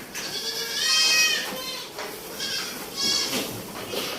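Barbari goats on a stall-fed goat farm bleat several times in wavering, nasal calls, two strong bleats standing out among fainter ones, moderately close, over a steady barn background with no voices.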